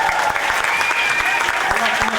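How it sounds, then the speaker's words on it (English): An audience at a school Battle of the Bands claps loudly and continuously, dense hand claps close by with murmured voices underneath. "Let's give it a clap."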